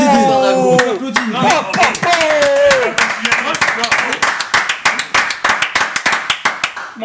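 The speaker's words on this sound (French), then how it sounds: "Vas-y, applaudis." Studio audience on a French football talk show clapping: a dense burst of claps that thins into separate, irregular hand claps, with talk and voices running over the start.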